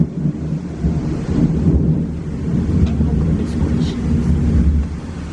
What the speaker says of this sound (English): This storm is ferocious.